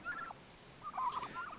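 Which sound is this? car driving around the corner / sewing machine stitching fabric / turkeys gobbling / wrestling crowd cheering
turkeys gobbling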